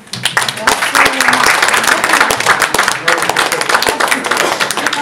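Sustained applause from an audience at a book award ceremony, dense clapping holding steady for several seconds at close range, with a few voices faintly mixed in.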